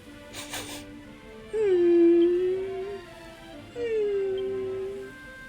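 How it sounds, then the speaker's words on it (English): A sad dog in Dragon Quest Builders 2 gives two drawn-out, wavering whimpering howls, close and clear, after a brief faint sound at the start. "Stroke the dog. Hello, dog."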